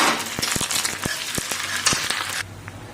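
Ginger-garlic paste frying with browned onions and bay leaf in a pan: continuous close sizzle with repeated sharp clicks and scrapes of stirring, cutting off abruptly near the end.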